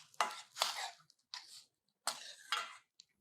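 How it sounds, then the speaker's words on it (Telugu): A knife cuts coriander stems for a ragi soup in a few crisp, separated strokes, close and quiet, with short silences between each cut. "ఆ కాడలు కొద్దిగా ఉంటే అవి కూడా కట్ చేసి ఇందులో వేసేస్తున్నా."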